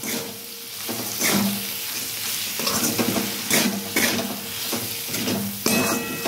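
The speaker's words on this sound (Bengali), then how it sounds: "দিয়ে আমি এটা আবার ভালো করে মিক্স করব, ভালো করে এভাবে মিক্স করে নেব" Spiced potatoes and yardlong beans are stirred in a hot pan, a steady sizzle broken by repeated scraping strokes of the spoon, close and fairly loud, with no talk.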